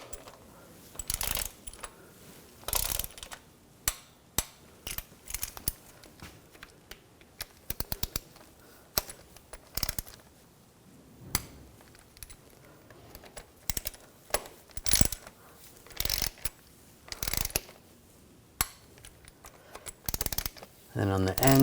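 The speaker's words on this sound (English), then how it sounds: "Now we're going to torque these bolts to 8 foot-pounds." A torque wrench tightens the transmission pan bolts on a 2007-2013 BMW X5 to 8 foot-pounds, producing sharp, close mechanical clicks and ratcheting ticks at irregular intervals against a quiet garage background.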